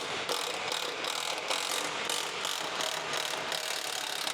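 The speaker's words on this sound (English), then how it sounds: "Let's remove those bolts now." A ratchet wrench clicks steadily and close-up as it loosens 15 mm bolts on a Tesla bumper, with a fast, even ratcheting rhythm and no talking.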